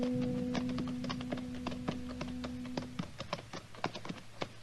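Horses walk at an unhurried pace up an almost deserted town main street, a steady run of clip-clop hoof taps close by, with a low tone held under the opening seconds.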